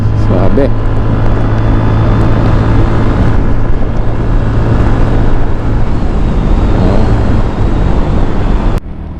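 A Yamaha Mio Sporty 115 scooter, seven years in service, riding along with a steady, loud engine drone and rushing wind noise that holds throughout before dropping off sharply at the end.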